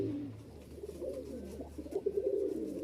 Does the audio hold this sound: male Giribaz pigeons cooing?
yes